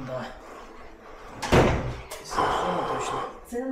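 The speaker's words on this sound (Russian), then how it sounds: "вот эту дверь точно надо открыть" Door on a moving job opened with a loud thunk and rattle, followed by a second bang and some shuffling, while people talk around it.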